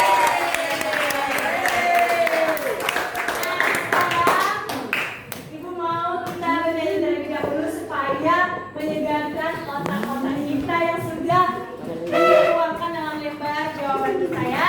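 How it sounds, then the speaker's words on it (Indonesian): An eighth-grade classroom of Indonesian students claps together in a brief burst, then lively children's voices chatter and chant over it. "Tepuk tangan dong untuk kita semua."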